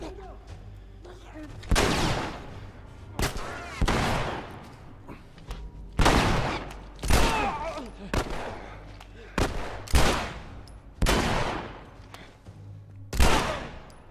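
Gunfire from The Last of Us Remastered, played in repeated loud bursts of shots spaced across the scene with short gaps between volleys, mixed with some speech in the background.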